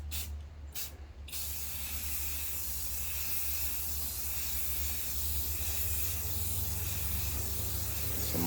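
A steady, close hiss of aerosol spray lays a tint coat onto a car taillight, holding continuously for several seconds after a couple of brief opening bursts.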